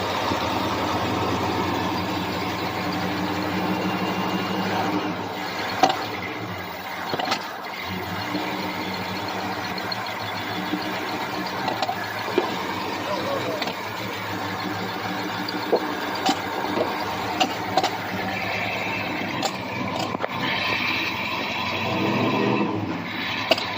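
A 1968 Ford F250 engine idles roughly with a struggling carburetor and a faulty accelerator pump, a steady close mechanical rumble with uneven catches and small knocks throughout, no talk.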